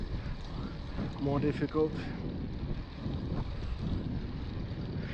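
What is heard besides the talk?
wind while cycling against it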